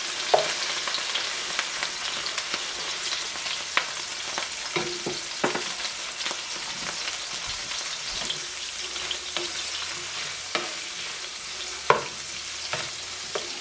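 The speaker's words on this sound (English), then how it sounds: "Now we're going to toss the shrimp in. You want to just cook these until they are orange." Shrimp sizzle in a hot pan with chilies and garlic, a constant bright frying hiss broken by occasional sharp pops and stirring clicks, close and with no talk.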